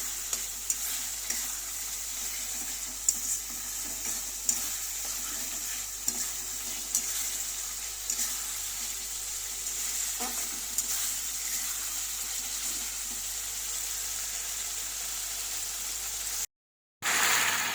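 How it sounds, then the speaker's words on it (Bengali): A fish head sautés with spices in a pan for a mung dal dish, giving a steady close sizzle and frying hiss with occasional soft stirring knocks, cutting off briefly near the end. "মাছের মাথাটা ওর মধ্যে দিয়ে দিয়েছি দিয়ে একটু কষিয়ে নিচ্ছি"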